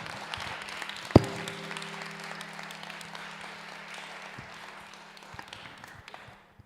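A panel audience at a publishing event gives a steady, moderately distant round of applause, with one sharp knock near the start and the clapping slowly fading out.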